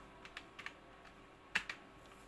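A handful of sharp, isolated keystrokes on a computer keyboard while entering a spreadsheet entry, quiet and close with a slightly louder double tap toward the end, no talking.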